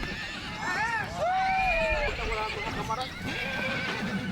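Horses on cattle ranch plains let out several loud, rising and falling whinnies in quick succession, with hooves clip-clopping underneath.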